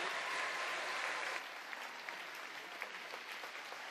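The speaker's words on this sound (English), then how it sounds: "Everybody, let's have a huge cheer for Hannah Miley" An audience at a national open swimming championship applauds and cheers a gold medalist, a dense burst of clapping that eases slightly after the first second and a half but continues steadily, heard from a distance.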